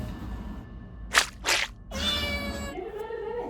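A cat lets out a couple of short breathy sounds, then a drawn-out meow, fairly close in a quiet room.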